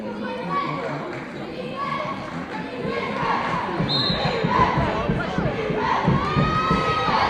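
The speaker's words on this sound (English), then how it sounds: "the crowd has come alive here as the chant for defense" At a girls' high school basketball game, the gym crowd rises into a loud rhythmic defense chant, swelling over time with shouting and cheering.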